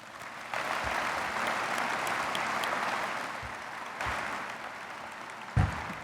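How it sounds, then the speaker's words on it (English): An audience claps at the Southwest High School 2020 graduation ceremony, producing dense, sustained applause that continues evenly for several seconds and ends with a few louder, close claps. "let's actually give a round of applause to all of the administrators, teachers, and staff that are here supporting you this morning"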